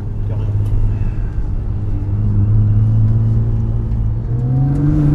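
Race car engine revving hard through a 90 mm diameter exhaust at a rear-drive track day, a loud continuous drone that climbs in pitch toward the end, with people talking underneath.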